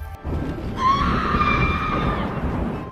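A scream from the horror film Terrifier 3: a sudden loud shrill cry bursts in after a brief low thud and holds, wavering, over a rumbling background to the end.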